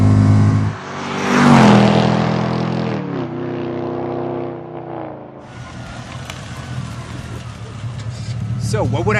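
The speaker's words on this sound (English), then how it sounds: "Oh yes, this accelerates." Mercedes B-Class W245 fitted with a 5.5 V8 AMG engine, driven with ESP off and accelerating hard: a loud rising engine roar, gear changes, then quieter running, with a person talking and exclaiming over it.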